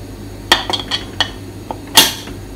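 A metal pressure cooker lid fitted with its rubber washer being pressed on and twisted shut in a kitchen, a handful of sharp metallic clinks and clacks close by, ending with a louder clunk as it locks.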